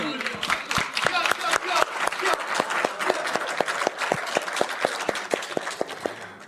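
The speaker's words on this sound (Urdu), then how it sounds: "اور ایک باری تالی اور ہو جائے اس کے لیے" A poetry recital audience applauding, dense crowd clapping with sharp individual claps standing out in a steady rhythm, loud and sustained throughout with a voice briefly underneath.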